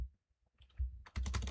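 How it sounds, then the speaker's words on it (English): Quick typing on a computer keyboard: a few soft taps, then a dense burst of rapid clattering keystrokes close to the microphone, with no talking. "that shows you how quick I'm typing"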